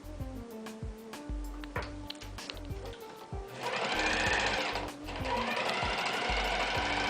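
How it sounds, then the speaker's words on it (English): Serger sewing machine stitching the side seams of a fabric pouch at a 5/8 seam allowance: rapid mechanical chattering in short start-stop bursts, then a longer continuous run, close by and without talk. "Now I'm going to serge the side seams of the pouch using a 5/8 seam allowance."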